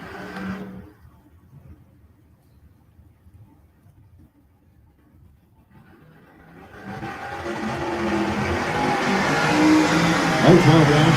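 Drag race cars launching down the strip, a 1974 Chevy van and a 1965 Chevelle, their engines swelling from quiet into a loud, sustained roar after a near-silent start.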